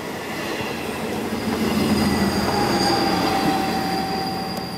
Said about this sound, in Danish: Her er vi i IC4-toget.